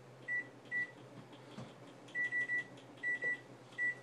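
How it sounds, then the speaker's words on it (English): A kitchen timer is set for baking sourdough bread, giving a series of short, faint electronic beeps, single and in quick pairs and triples, over a low steady room hum. "Gonna set the timer"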